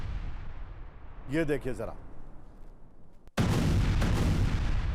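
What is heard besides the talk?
air strike explosions in news footage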